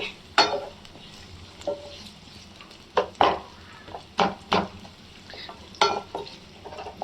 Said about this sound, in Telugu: ఈ మూడు మెయిన్ ఇంగ్రీడియంట్స్ వేసి మంచిగా మిక్స్ చేసుకోవాలి